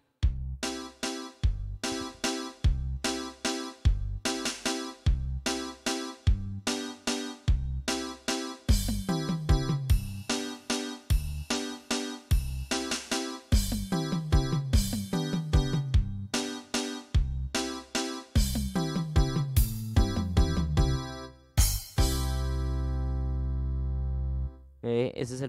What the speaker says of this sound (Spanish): Entonces los ritmos suenan así.